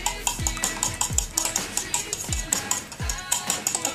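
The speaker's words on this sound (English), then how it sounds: "And then we mix them together." Ingredients are stirred together in a bowl, with a utensil clinking rhythmically against the sides, roughly two sharp knocks per second, close and clear with no talking.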